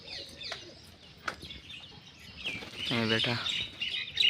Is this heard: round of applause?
no